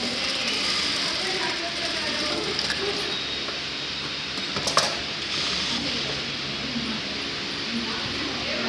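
A sewing machine stitches fabric in a steady, continuous mechanical whirr with fine rattling texture, running close and fairly loud throughout with one brief sharper knock midway.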